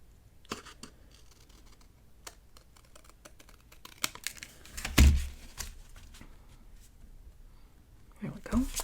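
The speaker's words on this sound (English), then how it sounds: "I'm going to just use my scissors." Scissors snipping paper for a Christmas ephemera folio, a scatter of small crisp cuts and rustles, close by, with a couple of louder handling thumps partway through.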